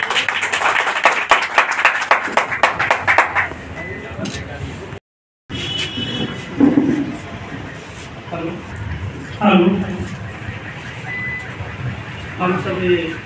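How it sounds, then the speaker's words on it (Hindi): An audience claps in a dense, lively burst of applause at a Human Rights Day gathering in the International Human Rights Commission office in Manpur, Gaya. The clapping fades after a few seconds, then a pause, then someone speaks. "जोरदार ताली से इनका स्वागत।"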